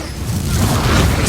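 An Incendio fire spell blast in Hogwarts Legacy swells into a rumbling, booming burst that grows louder and ends with a bright hiss.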